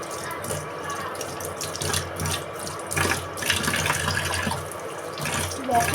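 Tap water runs into a sink while dishes are washed at home, a steady close splashing rush with clinks and shifting gurgles throughout.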